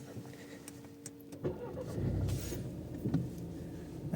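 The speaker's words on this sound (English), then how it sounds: "Let's start the car again" An Audi TT MK3 car cranks and fires up close by, a brief starter burst settling into a steady idle rumble, after a few faint clicks and hums from inside the cabin.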